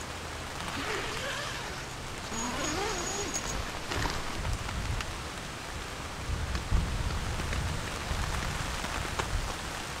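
Steady rain drumming on a storm-worthy Eureka Timberline 2 tent, a 40-plus-year-old design, as a continuous broadband patter with occasional heavier drops and faint distant rumbles.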